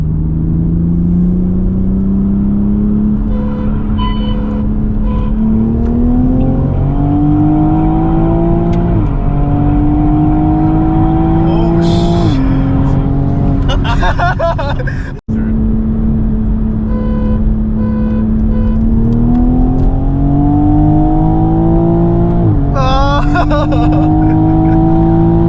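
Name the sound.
Toyota Supra GR and BMW M3 accelerating in a roll race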